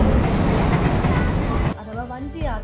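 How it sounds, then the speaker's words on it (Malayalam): A train crosses the Kadalundi bridge as a loud, steady, close rumble that suddenly drops off partway through, leaving quieter background sound with faint voices. "കടലുണ്ടി പാലത്തിൽ കൂടെ ട്രെയിൻ പോകുന്നതാണ് ഈ കാണുന്നത് കേട്ടോ."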